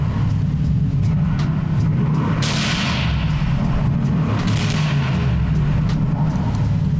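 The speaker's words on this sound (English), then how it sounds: "So I'll give you a rev for this car. I'll let you hear how loud it could be." An Aston Martin Vantage in Sport Plus mode revs loudly over a steady low rumble, with sharp bursts and booming crackles near the middle and late in the rev.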